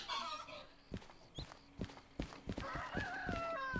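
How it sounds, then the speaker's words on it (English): Chickens in the video game Derail Valley cluck and crow over a quiet farm ambience, with scattered sharp knocks or steps and a rising crow near the end, all at low volume and without talk. "We have we have chickens."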